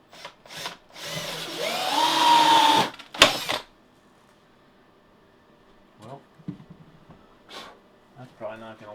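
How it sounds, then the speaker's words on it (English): A power drill whines loudly into plywood benchwork for a couple of seconds, its pitch rising, followed by a short second burst, then quieter clicks and handling noises. "I may just have to kind of drill a hole in an angle back in this corner."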